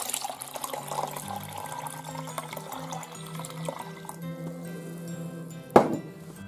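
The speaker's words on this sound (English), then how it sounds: "add 285 millilitres of cold water" Cold water splashes and trickles steadily into a jelly mixture in a container with faint clinks, ending in one sharp knock near the end.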